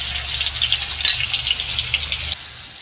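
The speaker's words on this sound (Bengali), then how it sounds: "আমি পরিমাণ মতো হলুদ গুঁড়ো দিয়ে ভেজে নেব" Potato pieces fry in hot oil with turmeric powder in a pan, giving a loud, steady, close sizzle with crackling spatters and a brief louder burst, easing slightly toward the end.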